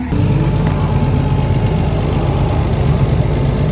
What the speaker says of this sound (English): That's our boost leak right there.